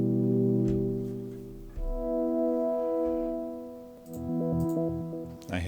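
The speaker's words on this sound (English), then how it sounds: "if I turn off the reverb, we will hear the pad itself." Procedurally generated synth pad heard dry without reverb, sustained harmonic tones shifting chords with low thumps and brief rhythmic stepped notes toward the end, played alone.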